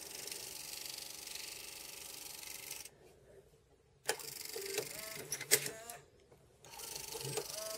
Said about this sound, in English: just the angle so you can actually see the disc spinning